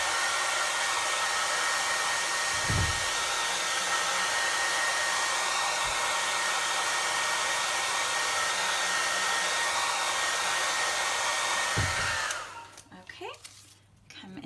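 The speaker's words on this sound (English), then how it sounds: "use my hair dryer" A hair dryer blows steadily and loudly for about twelve seconds while crafting on a chalkboard-painted mason jar, then cuts off, leaving a brief quieter tail of soft handling noise.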